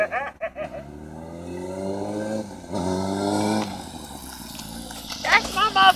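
A Yamaha R6 sport motorcycle engine revs with rising and falling pitch, a sustained close whine that climbs through the gears, while people talk and shout over it at moments.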